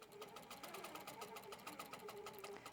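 An HQ Pro-Stitcher longarm quilting machine stitches with a fast, even mechanical chatter and a steady motor hum, faint and continuous with no talking.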